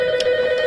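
An old-style telephone bell rings in short rattling bursts, close and fairly loud, with no speech over it.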